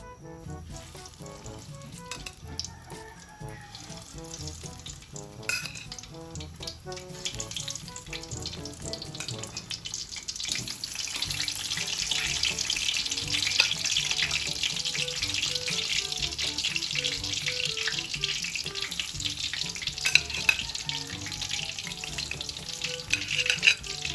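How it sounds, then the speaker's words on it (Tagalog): Sliced bananas for banana cue drop into hot cooking oil and fry with a steady, growing sizzle that brightens and thickens after the first seconds, with occasional clinks and stirring, no voices. "Lalagay na po natin mga kadilag yung saging dahil mainit na yung ating mantika."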